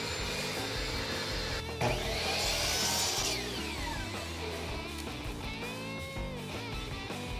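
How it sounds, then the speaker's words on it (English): A power saw trims the wooden sides of a chain storage box, its loud whining motor running steadily with a rising, harsher cutting burst partway through, close and without speech. "now I can trim the sides off to the length that I wanted this to be"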